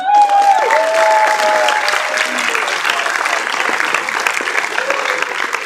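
A council meeting crowd gives the outgoing leaders a loud round of applause, steady dense clapping for several seconds. A few whistles and cheers rise above it near the start.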